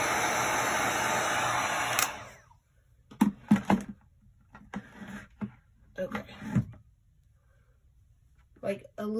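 A heat tool blows a steady, loud whoosh over a cured resin marbled tile coaster for about two seconds, then cuts off, followed by a voice talking with quieter handling noises.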